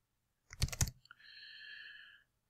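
Keys on a computer keyboard clatter in a short burst of clicks, followed by a brief steady tone, close and quiet.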